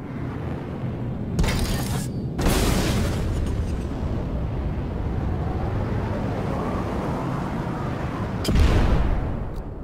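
Missile launch and explosion in a combat flight-simulator tutorial: sharp bursts and a heavy rumbling boom, followed by a lingering roar and another sudden burst near the end, loud and close.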